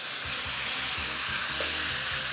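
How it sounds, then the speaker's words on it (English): Beef sears in hot oil in a wok with a loud, steady sizzle and hiss, close up, along with soft rhythmic scraping as the pieces are spread out. "Spread that beef out because I want it to sear for a little bit before I start stir frying it."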